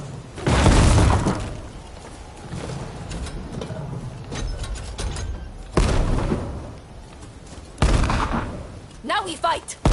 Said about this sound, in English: Now we unleash the cannons on them!